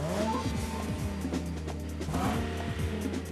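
A front-mounted Nissan 3.7-liter V6 sports car engine runs with a steady, hoarse drone and shifting harmonic tones, heard close and loud throughout with no speech.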